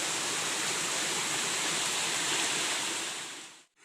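Stream of rushing water heard up close, a loud, steady broadband wash that holds constant for several seconds before cutting off.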